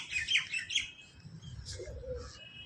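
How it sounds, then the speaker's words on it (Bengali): Pigeons and crows gather outdoors, giving a few scattered chirps and squawks at moderate distance over quiet background noise, with faint low rumbling below. "দেখলে তো কত পায়রা আর কাক চলে এসছে।"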